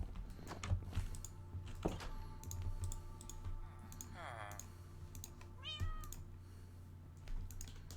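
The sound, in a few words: cat meowing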